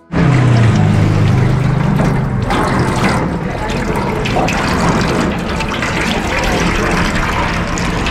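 Water runs steadily from a tap as hands are washed after a meal at a busy restaurant, a loud continuous splashing hiss from start to end, with a voice briefly audible over it.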